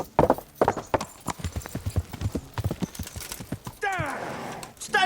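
Horse hooves clip-clop at a steady gait in Kingdom Come: Deliverance, close and clear under spoken game dialogue, with a horse whinny rising near the end.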